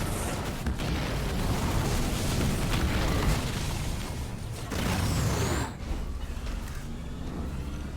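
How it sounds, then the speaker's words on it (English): Enemy artillery shells explode in the real-time strategy game Halo Wars 2, heavy booming blasts rolling into a dense, continuous rumble of in-game battle noise. "Under fire from enemy artillery."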